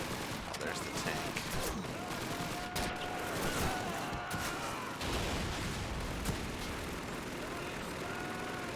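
Gunfire in the Call of Duty 2 war game, bursts of rifle and machine-gun shots crackling over a rumbling battlefield with occasional explosions, busy and dense with voices talking underneath.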